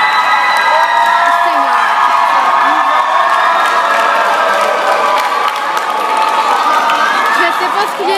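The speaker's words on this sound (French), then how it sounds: "mais tout le monde applaudit." A large crowd cheers, whoops and applauds steadily in a filling hall at the Rendez-vous panquébécois 2018, loud and dense throughout with scattered shouts over the clapping.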